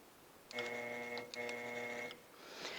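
A longarm quilting machine stitching as the needle drops to pull up the bobbin thread, two short whirring bursts of rapid mechanical stitching, close and fairly quiet.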